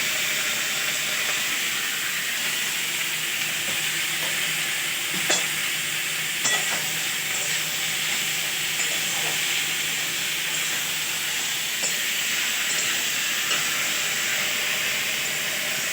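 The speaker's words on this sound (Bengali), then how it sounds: "লঙ্কা একটু নেড়ে নিই ভালো করে" Chili being stirred in a hot frying pan sizzles with a steady, even hiss, punctuated by occasional soft scrapes and knocks of the spoon against the pan, close and moderately loud with no talking.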